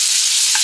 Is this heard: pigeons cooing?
no